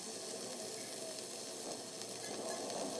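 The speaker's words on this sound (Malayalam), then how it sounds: "അപ്പം നമ്മുടെ തക്കാളി ഇവിടെ ഫ്രൈ ആയി വന്നിട്ടുണ്ട്." Tomato frying in a pan for an egg burger, seasoned with pepper and salt, gives a continuous close sizzle and hiss at an even level throughout.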